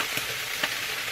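Egg frying on a griddle with a steady close hiss and crackle, a couple of brief louder pops, no talk.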